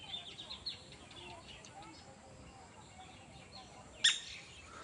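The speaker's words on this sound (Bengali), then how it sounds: "ওই যে দেখেন এখন কোথায় গিয়া কি পিট পিট পিট ডাকতেছে" A small bird calls after flushing from its nest with eggs, with a few faint, distant chirps and one sharp, louder call near the end over quiet outdoor background.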